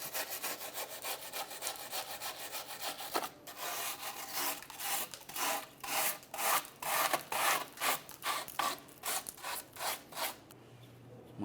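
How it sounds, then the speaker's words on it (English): A wire brush scrubs rust off the rear brake parts of a 2002-2009 Chevrolet Trailblazer, giving a rapid, rhythmic series of harsh back-and-forth scraping strokes close by, with a short pause before they speed up. "You can use a wire brush, get it all cleaned up."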